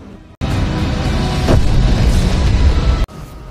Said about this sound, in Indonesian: meledakkan bomnya di atas langit